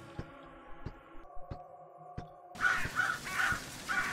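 Crows cawing in the video game Our Savior, a run of four harsh caws after a quieter stretch of game sounds, fairly close with no talking.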